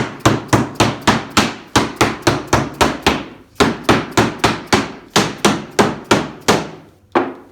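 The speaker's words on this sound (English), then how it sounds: "I take a hammer and just hit the back of it" Sharp hammer blows strike the back of 2x4 wood pieces to settle brads, in a fast, steady series of about twenty knocks, close and loud, with a brief pause midway.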